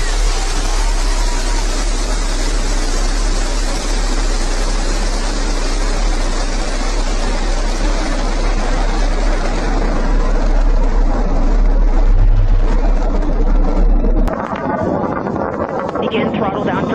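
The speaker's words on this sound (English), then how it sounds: "Liftoff. New Shepard has cleared the tower." Blue Origin New Shepard rocket lifting off, a loud, continuous broadband roar sustained for about fourteen seconds before cutting off sharply, with some wind buffeting on the microphone.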